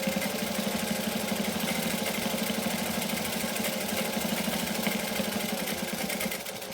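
A sewing machine back stitches through fabric with a size 18 needle, a steady, close, fast mechanical whir running without a break and easing off at the very end.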